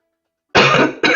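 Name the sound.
coughing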